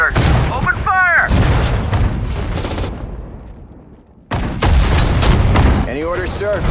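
Rifle and machine-gun volleys with heavy booms in the WWII strategy game Sudden Strike 4, during an Allied hedgerow battle. Loud, crowded salvos stop briefly and then resume, with soldiers' voice lines calling out over the shooting.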